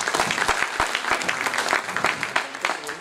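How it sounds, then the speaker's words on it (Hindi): Audience applause welcoming a guest to the stage at an assistive technology event, brisk, close clapping with sharp individual hand strikes standing out in a steady stream. "अमरिंदर सिंह जी के लिए भी जोरदार तालियां होंगी"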